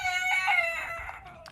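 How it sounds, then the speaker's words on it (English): A rooster crows once at close range on a backyard homestead, a clear, bright call lasting over a second with a rising then trailing tone, heard alone without talk. "And this rooster says bye."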